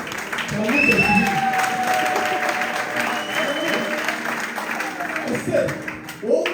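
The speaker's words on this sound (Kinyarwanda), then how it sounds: "mu gukubitira amashyi zonyine" A crowd at an igitaramo gathering in Nyabiheke camp claps continuously, a steady mid-level rattle of hands that swells and eases, with people talking over the clapping throughout.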